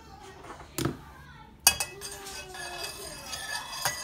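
Stirring a melted homemade deodorant mixture with vitamin E oil in a container, a few sharp clinks of utensil against the vessel and light scraping, close and fairly quiet, with brief speech.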